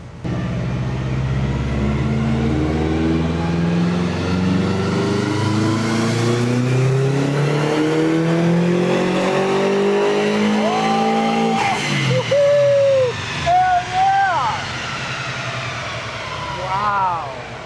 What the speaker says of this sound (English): this thing's gonna do the sickest burnouts